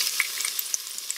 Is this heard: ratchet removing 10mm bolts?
no